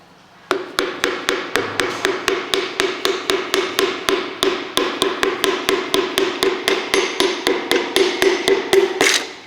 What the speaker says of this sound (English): All I'm going to do now is gently give it a tap.